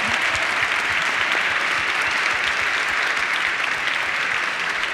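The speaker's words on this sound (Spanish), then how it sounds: "Un fuerte aplauso para ellos." Sustained applause from an audience at an awards ceremony for CyberOlympics winners at CyberCamp 2018, dense and steady for the whole stretch, with no voices standing out.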